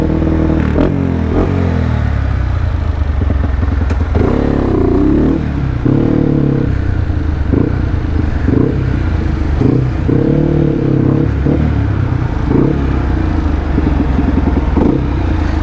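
Blue Yamaha KLX motorcycle engine, apparently fitted with a non-standard magneto, running loud and close, with repeated throttle blips and revs rising and falling over a steady rumbling idle.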